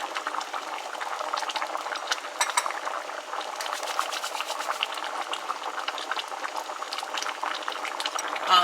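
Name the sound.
pot of seasoned food bubbling on the stove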